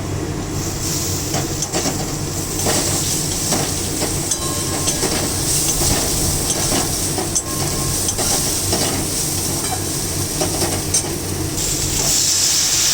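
Green chilli paste fries with prawns in a pan for a cucumber and prawn dish, giving a loud, steady sizzle throughout with frequent scraping and stirring clatter.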